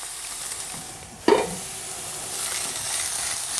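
Chopped endive sautéing in a pan for a southern Italian fava bean soup, a steady close sizzle with one sharp clunk of a spoon or pan stir partway through.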